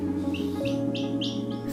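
High, thin peeps from a newly hatched chick come close by, starting soft and growing into a run of quicker chirps over a steady low hum.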